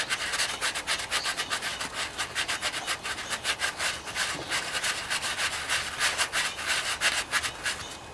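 Sanding sponge rubbed briskly against a small engine fuel pump part makes a rapid, steady scratching rasp that continues in quick strokes throughout.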